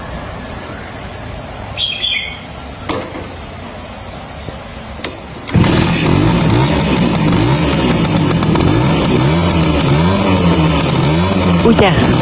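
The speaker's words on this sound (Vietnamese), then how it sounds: "Bây giờ chúng mình sẽ cùng nghe qua tiếng máy nha các bạn." A 1976 Simson S50B moped engine starts after a few seconds of quiet outdoor birdsong, then runs loud, close and steady with a continuous buzzing drone to the end.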